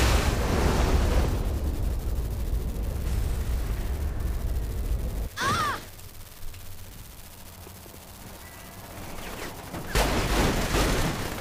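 Gunfire in the video game Saints Row: The Third, a dense, continuous barrage of shots and blasts that briefly drops out, then resumes loudly near the end.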